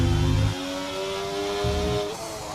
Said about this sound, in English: Let's go on board with Trey as he starts his hot lap.